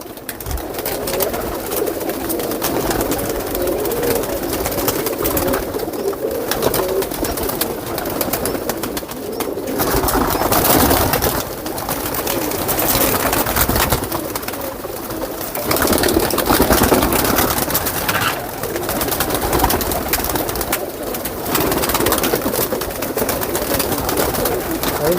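High flyer pigeons coo repeatedly in a low, throaty murmur, several birds overlapping with a steady background hum and no talking.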